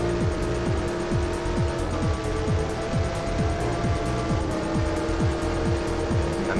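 Race cars in the Le Mans 24 Hours video game, including a McLaren and an open-top Audi, roar steadily with engines climbing and dropping through repeated rapid gear shifts, sustained and loud throughout.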